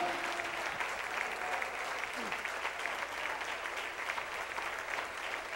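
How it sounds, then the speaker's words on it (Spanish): A church congregation keeps up sustained, dense applause that holds at an even level throughout, with faint voices mixed into the crowd. "Aplauda todo el tiempo que usted quiera."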